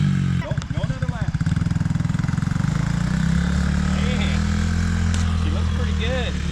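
A Coleman AT125UT go-kart with a swapped engine pulling away for a lap, its small engine buzzing loud and close before settling into a steady drone, with people talking over it.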